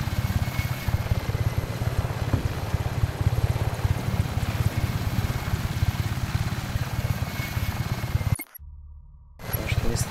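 A smoking, damaged helicopter flies in Just Cause 3, its rotor throbbing in a continuous rapid chop close up. The sound cuts out almost completely for about a second near the end, then returns.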